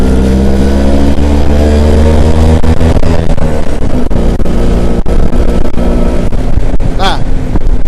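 A Vespa scooter engine revving hard and pulling up through second gear and beyond, loud and close, with heavy wind buffeting and rising pitch sweeps; a voice speaks over it.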